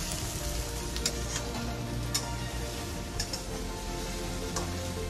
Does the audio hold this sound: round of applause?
no